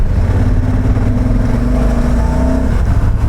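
A Honda Africa Twin motorcycle engine pulls hard from low revs in sixth gear as the throttle is opened wide, giving a loud, steady, continuous drone with a slowly rising tone and wind rumble.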